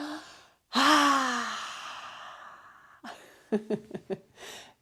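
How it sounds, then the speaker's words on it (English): Yoga class lion's breath: a long forceful exhale with the tongue out, loud and breathy and fading slowly, then a quieter breathy vocal burst followed by a few short laughing puffs. "let's do our big lion's yawn"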